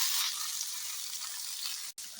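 Quartered medium onions frying in oil in a pan for onion chutney, a steady close hiss of sizzling with a brief dropout near the end, no talking.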